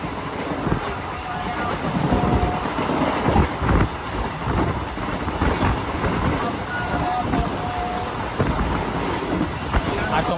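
A Sealdah–Katwa local train rolls along the Bandel–Katwa line, its steady loud rumble and rattling wheel clatter heard from inside the carriage with occasional knocks and jolts, continuous throughout.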